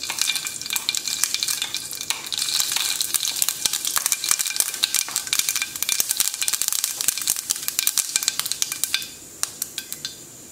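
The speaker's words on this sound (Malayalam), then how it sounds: "പാനിലേക്ക് എണ്ണ ഒഴിച്ചു എണ്ണ ചൂടായിട്ടുണ്ട് ഇതിലേക്ക് ഞാൻ കടുക് ഇട്ട് കൊടുക്കുകയാണ്" Mustard seeds sputter and pop in hot oil in a pan, a dense rapid crackle of sharp bursts lasting several seconds that thins out toward the end.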